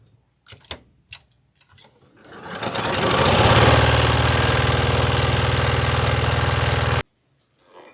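A sewing machine stitches a scrappy patchwork quilt block seam, running steadily for about four seconds after a few short clicks and handling sounds, then stopping abruptly.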